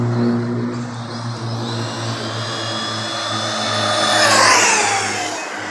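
Arrma Kraton 6s V4 2019 RC car making a speed pass, a steady high electric whine with a low hum, swelling louder near the end as it sweeps closer, no talk.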